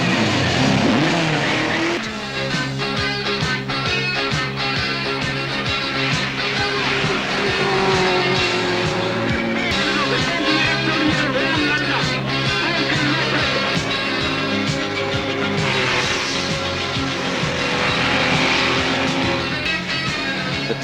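A Triumph TR7 V8 rally car races over tarmac and gravel, its engine roaring loud and sustained with shifting revs, tire noise woven through a steady, unbroken blast of power.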